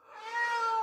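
A single drawn-out house cat meow, loud and close, steady and sustained for nearly a second with no talking.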